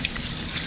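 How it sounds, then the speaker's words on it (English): Cold water pouring steadily over cooked spare ribs, a continuous close splashing rush like a running tap, alone with no talk. "I put a little bit of cold water or room temperature just to cool them down"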